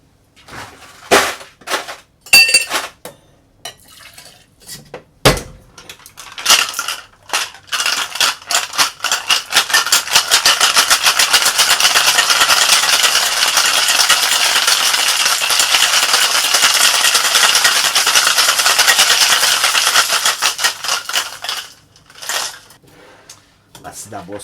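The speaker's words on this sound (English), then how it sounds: "Let's give this bad boy a shake with some ice." A cocktail shaker with ice, holding a grapefruit-juice drink made with bourbon or scotch, gets a vigorous shake. Loose clinks and taps lead into about fourteen seconds of dense, rapid rattling close by, which then tapers to a few knocks.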